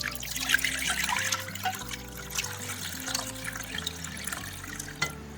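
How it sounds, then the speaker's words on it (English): Murky water left from washing cilantro pours out of a bowl in a steady, close trickle and splash that runs for several seconds with small gurgles, ending in a brief clatter. "Pour out the water on top."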